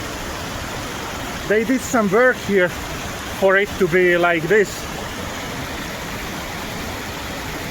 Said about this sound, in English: So it's not one waterfall, it's about 7, 8, all in the jungle, surrounded with forest.